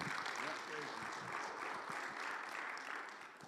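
Steady audience applause after a speaker's introduction at a talk on building a wealthy mindset, heard as a continuous, fairly distant wash of clapping that fades slightly toward the end.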